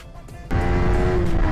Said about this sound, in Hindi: बंदा फुल पावर भगा रहा है भाई, क्या कट मार रहा है गाड़ी वाला